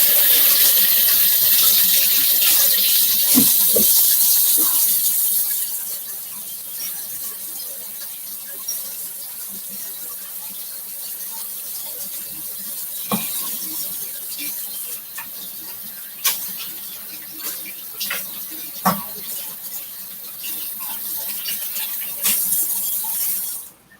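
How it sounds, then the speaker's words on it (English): Hands being washed under a running kitchen tap, with water splashing loudly for the first few seconds, then a steadier, softer stream with scattered small splashes and drips. "I'm gonna wash my hands."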